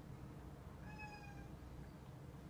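A single drawn-out meow from a cat indoors, one clear tonal call lasting about half a second, heard faintly over a steady low room hum with no talking.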